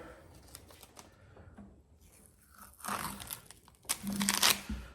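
Masking tape and paper peeled off a freshly painted shotgun, with crinkling and tearing that start soft and swell into louder ripping bursts near the end, close by, with no voices.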